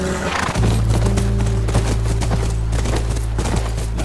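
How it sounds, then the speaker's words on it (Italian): Horse hooves clopping with a brief whinny near a ranch in The Last of Us Remastered, over a steady low droning background and scattered sharp bangs, with no one speaking. "Quello è il nostro cavallo."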